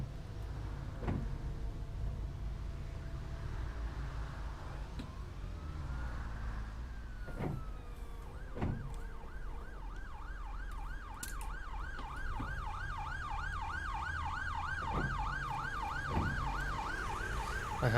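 A video game mod's ambulance siren wails in a rapid, repeating up-and-down yelp over a low rumbling background, starting partway through and continuing steadily to the end, with a few sharp clicks scattered throughout.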